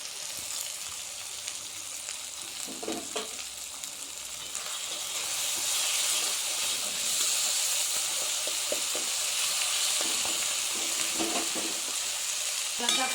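Masala spices frying and being stirred in a pan for a Bengali vegetable and fish-head ghonto, a steady close sizzle with bursts of scraping stirs, growing louder partway through.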